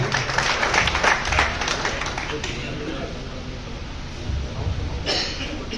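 Audience applause for the chief guest at a Hindi Journalism Day gathering, dense clapping that swells for about two seconds and then fades, with people talking underneath and after it.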